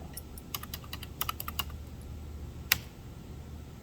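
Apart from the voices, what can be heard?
typing a student ID on a computer keyboard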